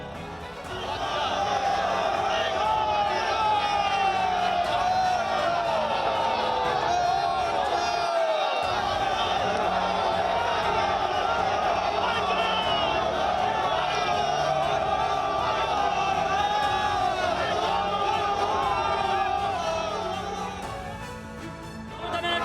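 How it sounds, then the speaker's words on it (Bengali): Protesting West Bengal state government employees crowd a road crossing, a continuous loud din of massed voices and shouting over a steady rumble, with slogans blending into the crowd noise throughout. "তৃণমূল সরকারকে ডিএ চোর সরকার বলে স্লোগান"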